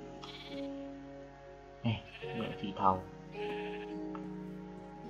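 Sheep in the video game Minecraft bleat several times in short wavering calls, close by, mixed with someone talking and soft background game music.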